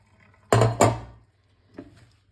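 Cooked pasta and its water tipped into a colander: two quick splashing gushes that fade into a short trickle, then a faint clink, close by with no talk.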